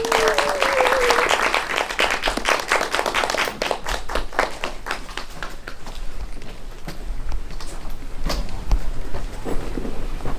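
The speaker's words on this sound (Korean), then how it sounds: "큰 박수 부탁드립니다." An audience at an art house cinema applauds to welcome a film director and two actors onto the stage for a talk. The clapping is dense and sustained at first, then thins into scattered claps.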